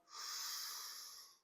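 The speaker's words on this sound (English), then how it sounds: "One more belly breath." A single deep belly breath during a yoga session, a long, soft, airy exhale lasting over a second, close and quiet, with no talking.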